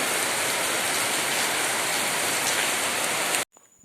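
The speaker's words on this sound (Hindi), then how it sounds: "देखिए फिर से बारिश शुरू हो गई है।" Steady afternoon rain pours down on surfaces in a dense, even hiss that holds unchanged for over three seconds, then cuts off abruptly to near quiet.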